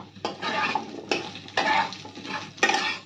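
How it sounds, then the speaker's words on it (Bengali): Chopped onions frying in a pan and stirred with a utensil, four or five distinct scraping strokes over a soft sizzle, near and fairly loud, with no talk. "পেঁয়াজ আমাদের ভাজা ভাজা হয়ে গেছে,"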